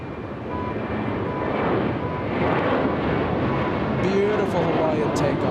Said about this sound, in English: Beautiful Hawaiian takeoff.